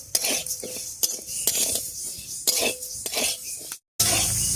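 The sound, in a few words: frying and stirring fish dal in a wok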